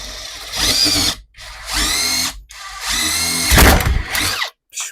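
A Grosser GID 230N cordless impact driver whirs into wood in four bursts, loud and close, each burst separated by brief pauses.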